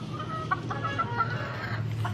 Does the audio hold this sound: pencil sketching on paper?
no